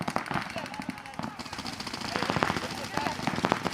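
Paintball markers fire at an outdoor paintball park, sounding as rapid, dense bursts of sharp pops throughout, mixed with shouted voices from the players.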